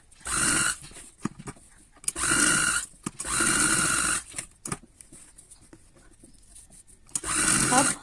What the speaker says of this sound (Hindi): अब हम फ्रेम के साथ साथ जैसे शेप है वैसे वैसे स्टिचिंग करेंगे।